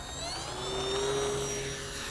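An E-flite Turbo Timber radio-controlled bush plane on 4S electric power flies past with a steady whining motor and propeller drone, its pitch sliding gradually, heard alone at moderate distance.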